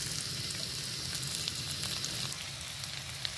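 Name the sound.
onions and green chillies frying in oil in a wok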